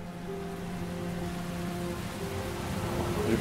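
Rain falls in the video game Heavy Rain as a steady, dense hiss of rainfall with sustained tonal sounds running over it, holding an even level throughout.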